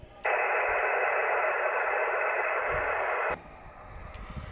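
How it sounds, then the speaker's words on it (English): A Yaesu FT-857D ham radio receiver on the 10-meter band gives a burst of loud band-limited static hiss lasting about three seconds, then cuts off to quieter background noise. "10-meter activity on the Yaesu 857D"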